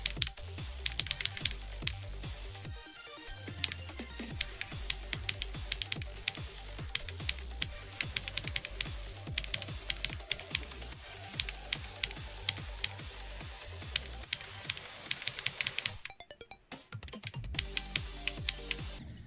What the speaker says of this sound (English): I just prefer my keyboard.